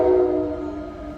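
A train sounds its horn while passing: a loud, sustained multi-tone blast that slowly fades over a moment, heard alone.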